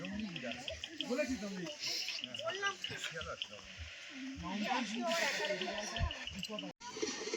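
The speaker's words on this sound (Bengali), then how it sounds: "ঝিঝি পোকা ডাকছে, বিভিন্ন পোকার আওয়াজ পাওয়া যাচ্ছে।" Crickets and other insects chirp steadily in a forest at dusk near Shilarigaon, a continuous high buzzing chorus with rapid repeated ticks, while a person talks over it at close range.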